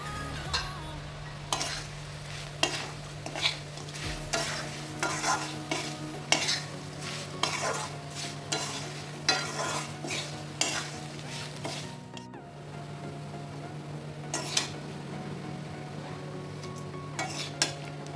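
Dry fish fries in a masala with a little oil, giving a steady sizzle. A spatula scrapes and stirs the pan in frequent uneven bursts, close and clear throughout.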